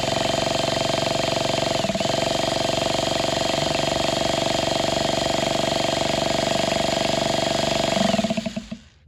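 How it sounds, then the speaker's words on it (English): A nitro RC car engine fired by pull start or easy-start button, its buzzing high-revving drone running loud and steady for about eight seconds before cutting out abruptly. "pull start or hit the button with the easy start while you got your finger over the exhaust"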